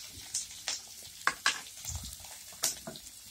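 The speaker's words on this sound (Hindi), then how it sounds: "और इसे 1 मिनट के लिए इसी तरह से थोड़ा फ्राई कर लेंगे" Potatoes, curry leaves and green chilies frying in hot oil, a steady close sizzle broken by several sharp crackling pops and a few stirring clinks, with no one talking.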